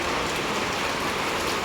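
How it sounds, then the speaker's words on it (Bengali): Heavy rain pouring down outside a house, a dense, unbroken hiss of drops striking surfaces, steady and loud with no voices. "দেখো কি জোর বৃষ্টি নেমেছে বাইরে"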